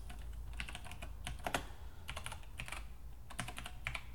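Clicky keystrokes on a computer keyboard as a command is typed into a Windows command prompt, arriving in short irregular bursts of close, crisp taps with brief pauses, no voices.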